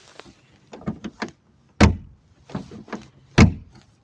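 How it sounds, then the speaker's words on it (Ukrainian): Doors of a sound-insulated ZAZ Slavuta car being closed, with light handling clicks and two solid, muffled thuds spaced apart, close by and without talk. "машина обезшумлена, дивіться, як все закривається."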